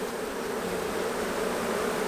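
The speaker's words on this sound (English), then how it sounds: "Look at all these bees down into here" Honey bees swarm inside an opened long hive, a dense, steady buzzing drone at close range, unbroken throughout.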